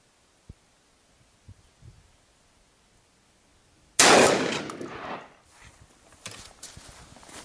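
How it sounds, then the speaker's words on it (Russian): An MR-155 shotgun fires a single loud, sharp blast at a paper target on an outdoor range, followed by a decaying echo and a few faint knocks, after several seconds of near silence. "делаем 3 выстрела, и каждый выстрел делаем в отдельную мишень."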